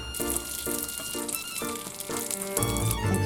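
Butter, brown sugar and walnuts frying in a pan on a stove at medium-high heat, a continuous loud sizzle with rhythmic stirring strokes and tonal scraping repeating every half second or so.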